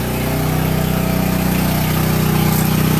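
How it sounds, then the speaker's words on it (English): A small generator built around a 24 volt alternator runs under load with a loud, steady, close engine drone and a fast, even pulsing throb. No voices are heard over it. "I'm load testing the little generator build with a 24 volt alternator."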